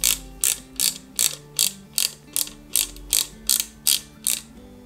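Screws are driven into the rear of a Ghostbusters Ecto-1 model kit, making a steady run of about a dozen crisp ratcheting clicks in an even rhythm, close and clear, with no talking.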